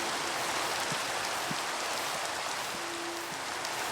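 Steady rain from the Minecraft Java Edition video game hisses evenly throughout, a constant broadband wash with a few faint low tones and a brief held note underneath, no voices.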